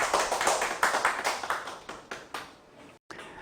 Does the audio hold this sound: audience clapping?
yes